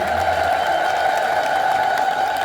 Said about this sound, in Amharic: አሁንም የማያጨበጭቡ እጆች እየታዩ ነው። እስኪ በደንብ አጨብጭቡ።